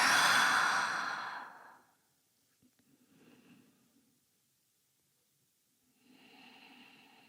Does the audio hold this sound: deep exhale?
yes